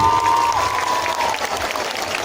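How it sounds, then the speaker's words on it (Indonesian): A crowd applauds steadily, a dense wash of clapping that holds at an even level throughout. "Minta tepuk tangannya buat Majlis Ta'lim As-Sabirin."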